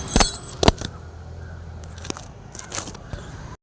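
A pet white rat eating, with crisp biting and crunching bursts, loudest near the start, then quieter scraping and nibbling close by with no talk.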